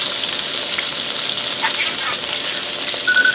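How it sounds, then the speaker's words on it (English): Jarred garlic fries in a hot pan on lowered heat, a steady bright sizzle with faint stirring clicks, close and continuous. "I'm going to dump it all right in the pan here, and I turn my heat down"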